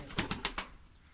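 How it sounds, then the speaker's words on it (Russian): Pigeons kept in a loft give several short, close bursts of sound within about half a second, then fall quiet, with no talking. "Тут есть такие голуби."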